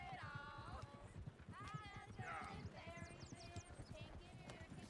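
Horse hooves clip-clop steadily in Red Dead Redemption 2, a continuous rhythmic trot of close hoofbeats with game sounds and music layered over it.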